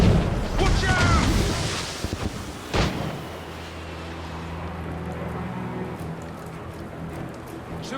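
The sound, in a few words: mortar fire in the video game Assassin's Creed Rogue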